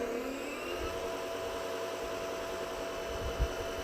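A YARDCARE 13-inch brushless lawn mower's blade motor spins up and settles at low speed, giving a steady, moderate whir with a faint electric hum and no speech.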